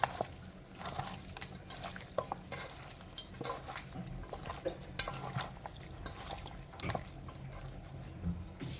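Beef being mixed by hand with spices in a bowl for a kebab marinade, giving soft wet squelching and stirring with occasional light clinks against the dish, moderately quiet and steady throughout.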